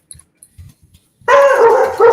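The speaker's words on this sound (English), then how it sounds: "Oh, sorry with the dogs." Dogs barking loudly indoors in a house, a few faint thumps followed by a sudden burst of sharp, repeated barks that stay loud and close until the end.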